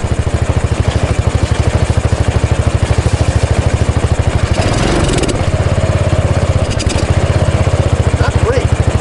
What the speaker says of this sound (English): Just gonna try to rev it.